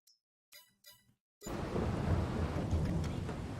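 Heavy rain and rumbling thunder in a farming simulator on the Aukrug Homfeld map kick in suddenly after a few quiet clicks, then continue as a dense, steady downpour with low rolling rumble.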